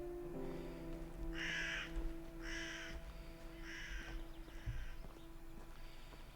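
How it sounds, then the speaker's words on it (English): Raven cawing in the video game The Fabled Woods, four harsh caws spaced about a second apart, moderately close, over a steady ambient drone with a faint low thud near the end. "Ooh, a raven."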